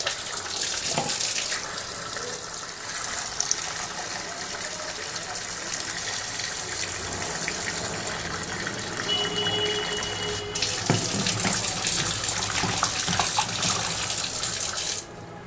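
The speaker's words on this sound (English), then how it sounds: "Pumpkin has been washed thoroughly." A kitchen tap runs continuously while a pumpkin is washed under it, a steady close gush of water that shifts slightly as the stream is disturbed, then cuts off near the end.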